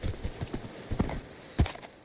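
Horse hooves clip-clop in the video game Minecraft, a quick, uneven run of muffled thuds ending in one heavier stomp, close and without talk.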